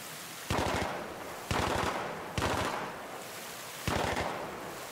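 Battlefield 3 Reality Mod gunfire: four quick bursts of rapid shots, evenly spaced about a second apart, each ringing out and fading into a hissing background, moderately distant.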